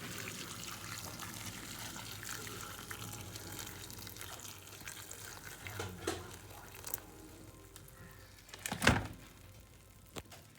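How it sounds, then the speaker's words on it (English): Boiling water poured from a kettle into a soup pot over chopped leek and kale, a soft steady trickle and splash, fairly quiet and close, ending with a sharp clunk of the pot or kettle. "I'm going to add in the boiling water, enough that it covers over all the vegetables"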